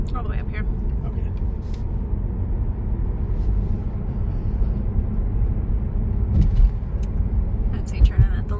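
A car drives slowly through a residential neighbourhood of newer duplex construction near East Beach, its engine and road noise forming a steady low rumble throughout, with brief sharper bumps near the end.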